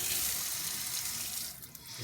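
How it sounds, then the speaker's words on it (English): Cold tap water runs steadily into a kitchen sink, a continuous close hiss and splash with no speech, lasting about two seconds. "I'm gonna put on some cold water."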